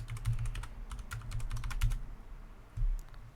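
Fingers typing a password on a computer keyboard, a quick run of close, crisp key clicks followed by a brief pause and a final heavier keystroke.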